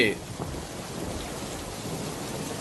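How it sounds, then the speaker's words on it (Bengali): A heavy thunderstorm with pounding rain and gusting wind, a dense steady roar of downpour close by, with no voices. "আকাশে জোরে বিদ্যুৎ চমকাতে লাগলো, মুষলধারে বৃষ্টি শুরু হলো, জোরে হাওয়া বইতে শুরু করলো"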